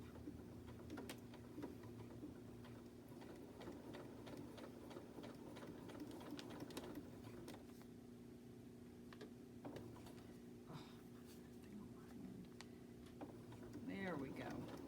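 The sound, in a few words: sewing machine stitching fabric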